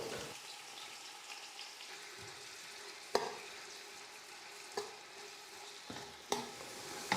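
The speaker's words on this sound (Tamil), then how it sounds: "வெங்காயம் வந்து நல்லா இந்த மாதிரி பொன்னிறமாக வர வரைக்கும் நல்லா வதக்கி எடுத்துக்கணும்" About half a kilo of sliced onions, five in all, frying in a pan for chicken biryani, a soft continuous sizzle broken by several sharp scrapes and knocks of a stirring spoon, close but fairly quiet, with no talking.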